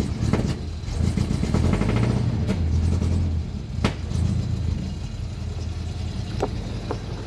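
An old engine with the choke on runs in a loud, steady, rumbling idle close by, with a few sharp knocks and clatters over the drone.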